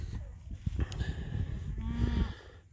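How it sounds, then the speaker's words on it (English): Cattle moo repeatedly, several calls rising and falling close by against a steady outdoor background as the herd is moved into a new row of pasture grass on a hot day. "we're moving the cows to a new row"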